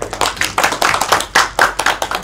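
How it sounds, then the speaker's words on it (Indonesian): A classroom group applauds students' answers during a microteaching lesson: brisk, fairly loud clapping from several people, an uneven flurry of sharp claps running throughout with no speech. "disampaikan oleh Mbak Reza dan Mbak Imelda, kita bisa beri tepuk tangannya."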